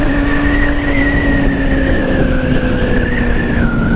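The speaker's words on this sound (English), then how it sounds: "This has more of a kind of induction kind of bellow to it than the R6." Kawasaki ZX6R sport bike engine revving and screaming with a deep induction bellow, a loud sustained high-pitched howl that rises and falls slightly as it holds revs under riding wind noise.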